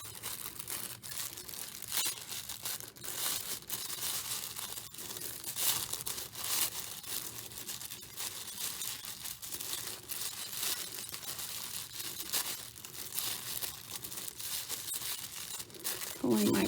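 Layers of tissue paper crinkling and rustling as they are gently pulled apart to make a paper flower, close and continuous with crisp bursts, a voice talking over it.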